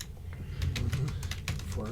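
Clicky keys tapped on a computer keyboard in a quick, uneven run of close strikes over a steady low background hum, with no talking.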